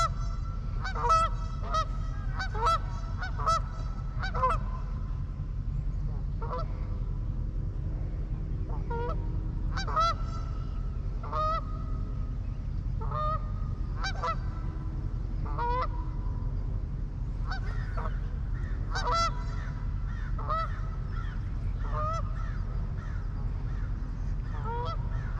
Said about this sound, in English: That one goose, he's a jerk. Just chasing that other goose out of his spot.